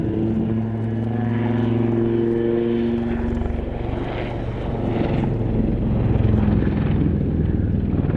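A Royal Navy Wildcat HMA-2 helicopter hovering at an airshow, its rotor and turbine making a loud, steady droning hum with a throbbing beat that holds throughout and swells near the end.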